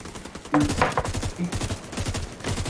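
Gunfire in The Division 2, a few sharp bursts of shots over a steady rumble of game sound, with someone talking across the clip.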